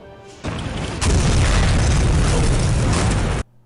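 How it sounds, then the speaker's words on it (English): A huge, roaring video game helicopter explosion that swells and sustains loudly for about three seconds, dense and rumbling, then cuts off abruptly. "this level has the most graphically impressive helicopter explosion in gaming history"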